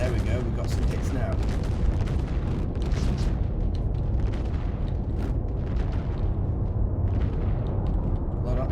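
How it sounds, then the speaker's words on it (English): Turrets firing slow projectiles in a video game battle make a continuous loud barrage of overlapping booms and crackling impacts, with speech in the mix. "Pilots kept it on point, both turrets firing."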